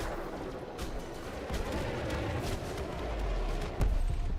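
Ship weapons fire in Elite Dangerous, a steady stream of rapid, rough blasts over a rumbling space-combat backdrop, with a heavier impact near the end.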